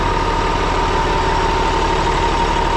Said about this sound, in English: Look at this crane truck.